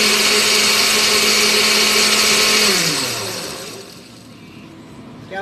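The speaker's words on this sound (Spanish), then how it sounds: "vamos a empezar a batir la leche primero" A blender whirs loudly and steadily as it blends milk with cinnamon for coquito, its motor pitch dropping and the sound fading as it winds down near the end.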